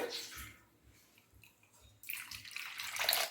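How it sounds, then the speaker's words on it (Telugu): Drinking water pours into a vessel of grated potato in two bursts, faint at first and then a fuller splashing stream near the end. "మళ్ళీ ఒక రెండు గ్లాసులు మంచినీళ్ళు పోసుకున్నామండి"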